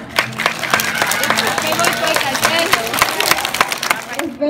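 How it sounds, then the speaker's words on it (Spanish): Schoolchildren applaud at a Fe y Alegría school event, a dense spread of rapid claps from a nearby group running steadily throughout, with voices mixed in. "¡Aplauso!"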